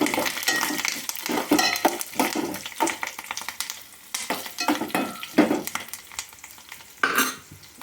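Garlic, cumin, mustard seeds, curry leaves and dried red chilies sizzle in hot oil for a tempering as a spoon stirs and scrapes the pan. The frying is loud and steady throughout, with clinks of metal, close up and with no talking.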